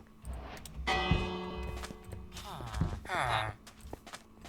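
A bell in Minecraft rings out with a bright, sustained metallic tone that lingers and fades, struck again around the middle, with other game sounds and a voice mixed in.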